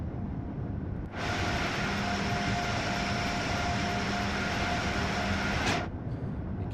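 An Acela Express high-speed train in Train Sim World 3 on the Northeast Corridor between New York and Trenton gives a loud, steady roar. The roar starts suddenly, holds for about four and a half seconds, then cuts off.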